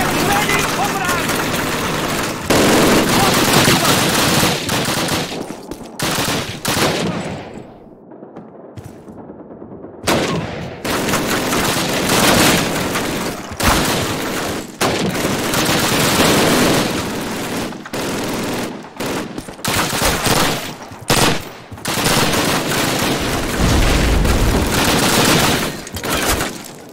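Machine gun fire in a Call of Duty World War II battle, the Pavlov's House mission, rattles in loud sustained bursts with short pauses, mixed with other gunfire and shouted commands.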